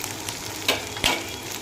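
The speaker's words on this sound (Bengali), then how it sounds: "আদা রসুনটা একটু ভেজে নিয়ে যাতে তরকারি তাড়াতাড়ি কোনো গন্ধটা না আসে, তাই একটু তেলে ভেজে নিলাম।" Ginger and garlic frying in oil in a home kitchen give a soft, steady sizzle, with two sharp spatter pops or utensil taps standing out, quiet and without talk.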